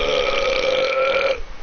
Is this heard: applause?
no